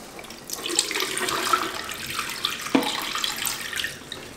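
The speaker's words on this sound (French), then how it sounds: "Je vais rincer à l'eau claire" Clear water runs into a film developing tank to rinse black-and-white film after the white vinegar stop bath is emptied, a steady close splashing wash with a brief knock partway through.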